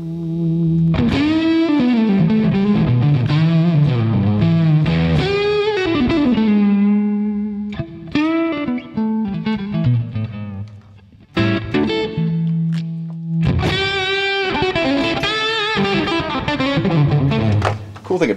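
Electric guitar played through a Plexi amp model on an Eleven Rack, with an expression pedal raising volume and reverb mix. Loud, distorted chords and single-note lines ring out over a sustained stretch, with brief pauses between phrases.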